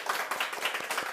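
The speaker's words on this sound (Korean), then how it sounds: "박수 한번 쳐드릴게요." A lecture show audience gives a brief round of applause to a film director, a quick patter of clapping that is moderately faint and carries no talk.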